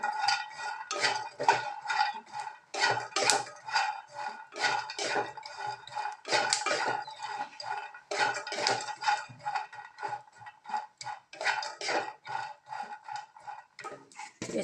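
Peanuts and grated coconut being dry-roasted in a pan, with dense, repeated scraping and clinking of a spatula against the metal in uneven bursts, close and loud, with no talking.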